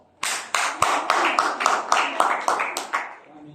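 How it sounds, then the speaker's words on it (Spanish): Students in a university biology class clap together in a steady, regular rhythm of about a dozen sharp claps, close and moderately loud, then fade out. "Aplausos."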